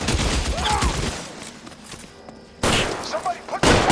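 Shots ring out in an L.A. Noire shootout: a rapid burst of gunfire, a brief lull, then more loud cracks near the end, sharp and close against background game noise.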